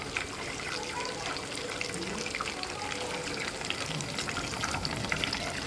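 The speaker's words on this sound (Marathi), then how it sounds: "तडतड तडतड असा पाण्याचा आवाज आला म्हणजे समजायचं आपलं खूप उकडलेलं आहे" Water poured into a hot pan sputters and crackles in a continuous busy hiss with scattered small pops, moderately close and fairly faint.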